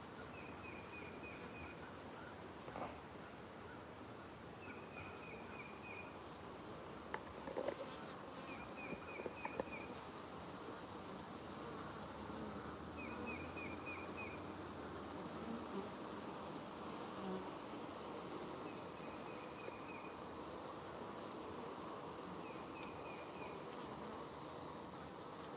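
Bees swarm and buzz around an open honeybee hive in a steady, close drone, with faint rustling and handling noises and a small bird chirping repeatedly in the distance.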